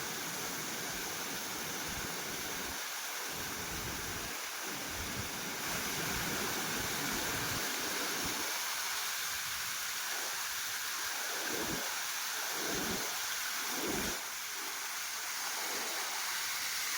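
Jadamadagu (Venkateshwara) waterfall near Bagepalli rushes in a constant broadband hiss, heard from close by with no voices.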